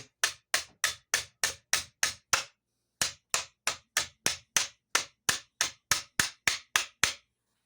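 Repeated sharp taps of a hammer or mallet at an even pace as a part is tapped into place, seven quick strikes, a short pause, then about a dozen more, close by.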